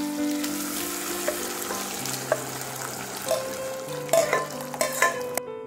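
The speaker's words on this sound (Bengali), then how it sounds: "এবার সেদ্ধ করা ডালটা এর মধ্যে ঢেলে দিচ্ছি।" Boiled dal is poured into ginger paste frying in a pan and stirred, giving a sustained sizzle with wet bubbling and a few spoon knocks near the end.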